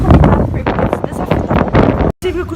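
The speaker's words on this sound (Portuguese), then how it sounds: "O vento é tão rápido" Strong wind buffets the microphone aboard a large car ferry, a loud, continuous roar with gusts, broken by a brief dropout near the end; voices seem to speak under it.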